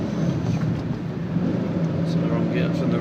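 A car engine heard from inside the cabin while driving and shifting into fourth gear, a steady low drone and hum with road noise underneath, holding fairly even across the few seconds.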